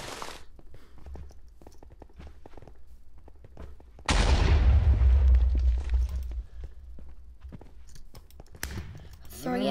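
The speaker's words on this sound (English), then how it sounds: "I'm throwing out a bunch of TNT." TNT blocks detonate in Minecraft on the Mineplex server: a loud, booming blast erupts midway and rumbles down over a couple of seconds, with scattered clicky game noises and a voice talking before and after.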